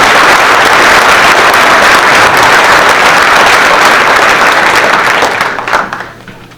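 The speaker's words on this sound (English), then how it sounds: "If we can give them a round of applause on the way up." Loud, sustained audience applause fills a community meeting room, a dense wash of clapping that holds steady for several seconds and then fades out toward the end.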